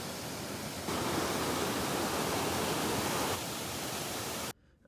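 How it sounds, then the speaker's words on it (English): A waterfall near Salt Lake City roars as a loud, steady rush of broadband water noise, swelling briefly louder in the middle before cutting off abruptly near the end, with no talk. "Here's a video just of what the waterfall looked like."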